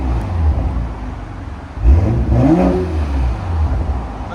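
A BMW M340i 3.0L with a Dinan cat-back exhaust and its valves open revs sharply after a low idle, the exhaust rising to a loud nearby rasp before dropping back to a rumbling idle.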